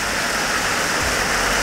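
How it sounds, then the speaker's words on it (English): Heavy rain pours steadily on a roadside shelter at a disused car mechanic drive-through, a dense, loud hiss filling the whole stretch with no voices. "We're taking a little shelter from the rain."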